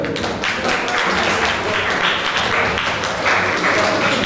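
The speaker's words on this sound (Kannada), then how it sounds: "ಮಕ್ಕಳ ಪೋಷಕರಿಗೆ ಕೂಡ ಮತ್ತೊಂದು ದೊಡ್ಡ ಚಪ್ಪಾಳೆ ಇರಬೇಕು" A crowd at a children's summer camp closing ceremony claps steadily for the children and their parents, a dense, continuous patter of applause heard throughout.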